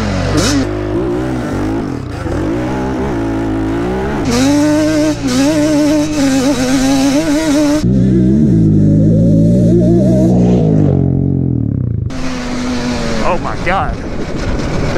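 Two quad ATVs, a Yamaha Banshee 421 and a Yamaha Raptor 700, race side by side, their engines revving loud and close with rising and falling pitch through gear shifts, while people talk over the engine noise throughout.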